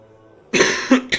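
A man who is sick coughs twice in quick succession, loud and close to the microphone, after a brief quiet moment and with no speech.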